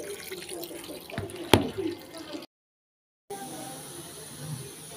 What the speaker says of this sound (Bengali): মাছটা ধুয়ে নিচ্ছি